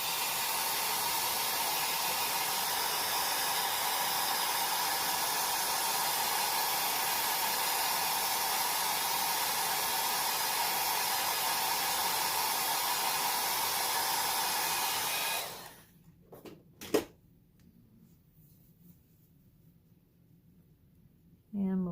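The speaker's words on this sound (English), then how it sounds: "I'm going to blow them down a tiny bit here. Just with the hair dryer" A hair dryer blows steady, loud hiss for about fifteen seconds while drying wet acrylic paint on a sunflower field canvas, then cuts off, leaving a few faint clicks and near silence.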